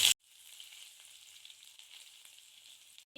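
Mustard seeds, ginger and garlic frying in hot oil in a clay pot for a Kerala fish curry, giving a steady, moderately loud sizzle that lasts about three seconds between brief cut-offs.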